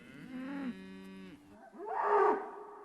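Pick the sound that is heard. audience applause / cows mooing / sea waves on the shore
cows mooing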